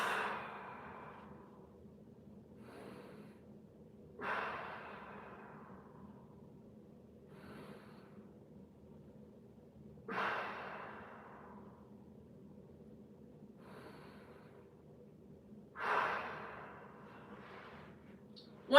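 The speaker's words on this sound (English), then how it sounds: "Inhale through the nose. Exhale." Slow, deep breaths drawn in through the nose and pushed out during floor mobility exercise, each exhale a soft airy whoosh recurring roughly every six seconds, quiet and close with a faint room hum beneath.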